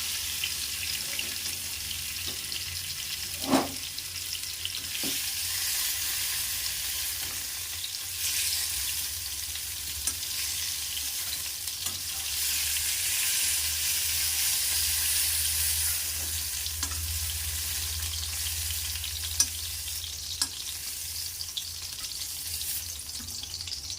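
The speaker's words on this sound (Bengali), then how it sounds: "দেখুন পটলগুলো আমার কত সুন্দর ভাজা হয়ে গেছে।" Pieces of pointed gourd (potol) fry in hot oil with a continuous, fairly quiet hiss and crackle, broken by occasional soft knocks as they are turned in the pan. No voices are heard.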